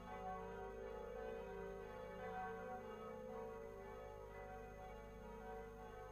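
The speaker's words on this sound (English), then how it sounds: "the bells are ringing in your honor today" Notre Dame church bells ringing in a Hunchback of Notre Dame video game, a sustained, faint layered tolling with long overlapping resonance that holds steady throughout, no voices over it.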